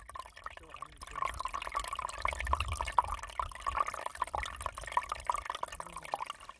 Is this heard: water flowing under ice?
yes